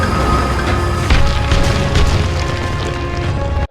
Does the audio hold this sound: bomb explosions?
yes